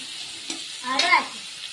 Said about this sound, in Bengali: তো এখানে একে একে পেঁয়াজগুলো আমরা সব দিয়ে দিলাম